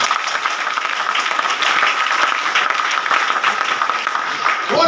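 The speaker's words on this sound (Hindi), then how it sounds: "ताली हो।" Loud applause from an audience at a recognition program event, steady clapping that holds for about five seconds without a break.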